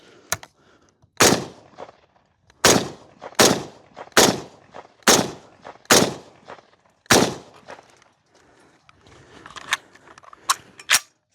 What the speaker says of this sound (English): There's some mag dumping in this can.